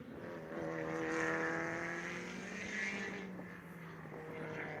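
A race car drives the track at M1 Concourse during a speed competition, its engine a sustained, moderately distant drone that rises and falls in pitch through a corner, with no talk.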